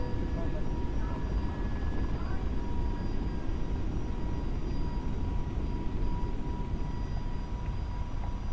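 An FSLabs A321neo airliner in Microsoft Flight Simulator takes off from Phoenix runway 25 right, a steady loud rumble of engine and wind noise running throughout with voices talking over it.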